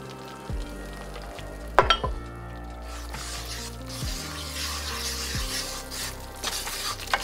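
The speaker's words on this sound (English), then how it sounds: "I'm basically cooking the flour, making the roux" Flour cooks in hot fat for a gumbo roux with a soft, continuous sizzle, broken by occasional stirring scrapes and a steady background hum.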